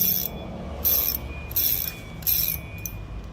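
Short bursts of crisp ratchet clicking from an aluminium fishing reel spool, four separate spurts spaced about a second apart, close and fairly clear.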